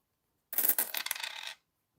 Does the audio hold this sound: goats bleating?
no